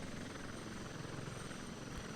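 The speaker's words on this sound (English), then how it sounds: "I'm going to go ahead and put our helicopter down" Helicopter rotor and engine noise from a flight simulator game, a steady broadband whir with a low throbbing pulse, loud and continuous with no talk, as the aircraft sets down for landing.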